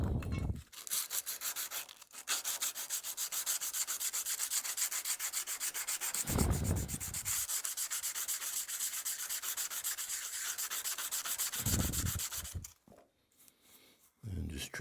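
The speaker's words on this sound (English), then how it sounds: "it would be hard to sharpen all this in one pass. It takes me about 3 passes to sharpen this thing." A curved steel cabinet scraper is sharpened with long, steady abrasive strokes, a continuous rasping rub broken by brief pauses, up close with someone talking over it.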